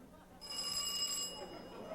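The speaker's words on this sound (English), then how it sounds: "Then in a twinkling, we heard the phone." A telephone rings onstage during a live comedy concert, giving a bright, sustained electronic ring that swells for about a second over faint crowd murmur.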